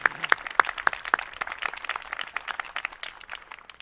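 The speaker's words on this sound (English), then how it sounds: "I'm going to clap for that one." A handful of people clap during a city address, starting with several sharp, distinct claps close by, then thinning into lighter scattered applause that fades.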